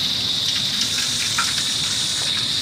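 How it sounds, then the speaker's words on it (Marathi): Steady gush of water from a borewell pump pouring into pots, a continuous broad rushing wash with no pauses, close and fairly loud throughout. "हे बघा पाणी भरायला लागले।"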